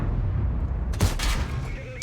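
A single heavy tank cannon blast from the FV217 Badger in World of Tanks booms over a constant rumbling engine drone, followed by a short fading echo.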